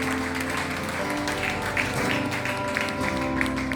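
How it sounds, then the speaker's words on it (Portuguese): Church congregation applauding during a Portuguese-language sermon, a steady, diffuse wash of many hands clapping at moderate distance with faint voices mixed in beneath. "Você pode aplaudir a Jesus?"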